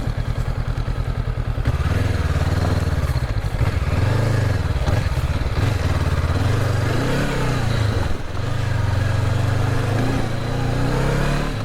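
Honda CB500X motorcycle engine droning loud and steady while riding at speed, with rising and falling revs, rumbling close up with wind noise and no voices.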